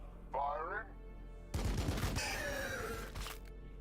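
Bile Predator unit firing its guns in the Warhammer 40k: Battlesector strategy game, a loud sustained burst of gunfire lasting about two seconds after a brief groaning tone, with crackling impacts.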